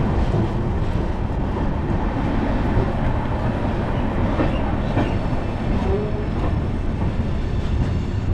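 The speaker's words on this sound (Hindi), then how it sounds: "तो भाई ये था इस ट्रेन का डिपार्चर" Chennai Duronto Express pulling out of a station, a steady, loud rolling rumble of rail wagons with faint clicking of wheels over joints, continuous and close throughout.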